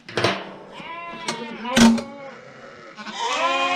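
Lambs bleat repeatedly during mustering and marking on a sheep farm, several close, wavering cries in quick succession with short gaps, one loud call standing out, and faint voices in the background.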